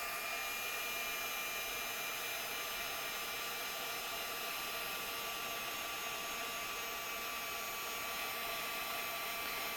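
Heat tool melting embossing powder on a stamped card, a steady, continuous blowing whir held at an even level from start to finish, close and without talk.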